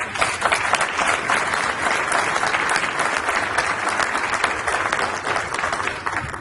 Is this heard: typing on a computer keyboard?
no